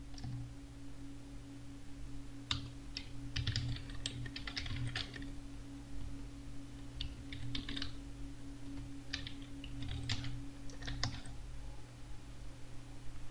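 Someone types a plugin install command on a computer keyboard, quiet bursts of key clicks in short irregular runs separated by pauses, over a low steady electrical hum.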